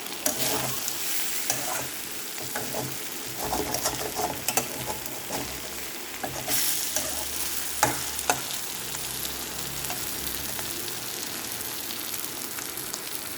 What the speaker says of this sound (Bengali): এই জন্যে খুব সাবধানে নাড়তে হবে আর কি